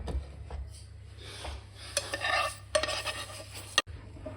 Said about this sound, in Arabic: الحين حطينا الشعرية، اقلبها مع الرز عشان تتغلف كلها مع الشعرية.